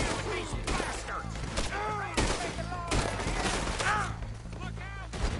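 Gunfire crackles in Red Dead Redemption 2 as repeated shots ring out in a running shootout, loud and close, with voices shouting over them.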